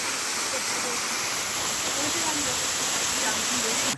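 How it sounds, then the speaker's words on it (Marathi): Steady roaring rush of Ashoka Waterfall near Igatpuri, loud and unbroken, with a voice faintly audible beneath it before it cuts off abruptly. "खूप मस्त धबधबा आहे"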